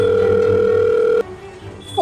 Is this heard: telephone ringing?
yes